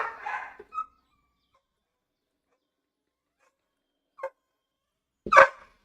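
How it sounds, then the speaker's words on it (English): A zoo animal barks in the Himalayan area of a Planet Zoo park, with a few separate bursts: one near the start, a short yip later, and a louder bark near the end. The gaps between them are quiet. "I think he will literally bark himself hoarse."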